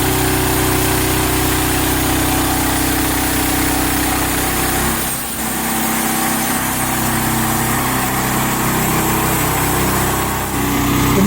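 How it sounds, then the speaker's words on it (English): Engine of a portable sawmill held at high revs while boards are cut quickly, a steady loud drone throughout, with a brief dip around the midpoint as the blade load shifts. "He's keeping it revved up and he's sawing boards very quickly"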